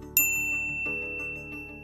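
A notification bell sound effect gives a single bright ding that rings out, followed by a softer second chime over a quiet musical background.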